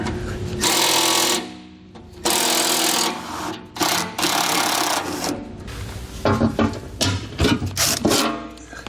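A 1/2-inch socket on a ratchet or driver removes the bolts of a pickup's spare tire heat shield, giving loud bursts of whirring, rasping mechanical noise separated by short pauses.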